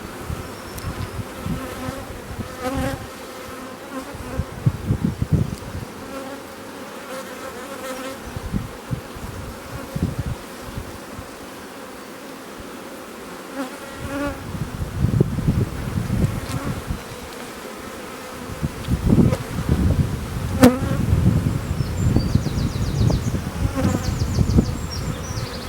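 Honeybees swarm around an opened hive frame while queen cells are cut out, a continuous close buzzing hum that thickens and grows louder toward the end, with occasional handling knocks and no talking.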